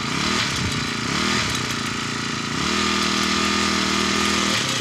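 A four-stroke grass cutter engine runs loud and close, idling roughly and then revving up to a higher, steady buzzing drone that holds, with no voices over it.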